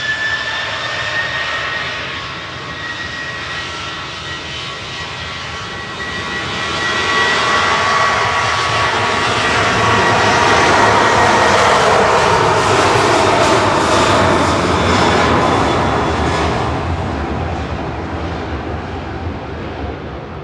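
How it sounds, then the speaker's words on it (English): A Ryanair Boeing 737-800 bound for Faro at Manchester Airport, its jet engines building from a moderate rumble into a loud sustained roar before easing slightly, heard alone without talk. "Ryanair 4052 to Faro, this is G Rucker, 737-800"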